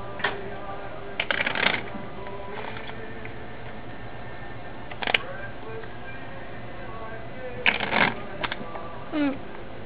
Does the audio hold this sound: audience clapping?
no